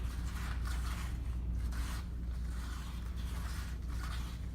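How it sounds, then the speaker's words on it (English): A garden hoe scrapes dry cement off the bottom of a mixing container, a steady, close, gritty rasping that continues without pause for several seconds with no voices. "So just scrape the bottom and make sure that there isn't any dry cement on the bottom."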